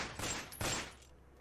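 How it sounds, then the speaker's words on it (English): A few quick bursts of gunfire in the video game Changeling crackle close by, one after another and then fading out. "nearly panicking at the unexpected sound of gunfire"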